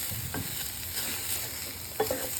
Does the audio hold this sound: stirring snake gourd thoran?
yes